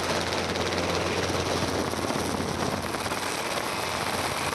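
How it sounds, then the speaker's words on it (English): An escort helicopter flies over a B-class jet boat powering through river rapids during the 2005 World Jet Boat Marathon, a loud, steady roar of rotor and engine noise throughout. "Complete with a helicopter escort, Ross Bailey powers through the rapids"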